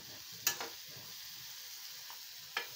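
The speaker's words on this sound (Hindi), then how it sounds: "दोस्तों ऐसे आप इसको अच्छे से चला लीजिएगा और इसको अच्छे से मिक्स कर लीजिए।" Egg bhurji is stirred in a frying pan, a faint steady sizzle broken by two sharp scrapes of the spoon against the pan, quiet and close with no talking.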